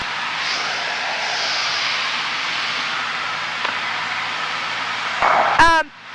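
A training airplane's engine droning steadily in flight as power is pulled back, a loud continuous hum inside the cabin that ends with a brief burst of radio or intercom noise.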